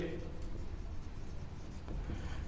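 A pen scratches steadily across paper while a maths theorem on tangents to a circle is written out, close and continuous, with a voice talking over it.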